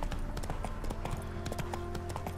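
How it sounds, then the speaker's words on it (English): A horse galloping in The Witcher 3: Wild Hunt, rapid rhythmic clip-clop hoofbeats over a low game soundscape, steady and close throughout. "The horse has got good stamina."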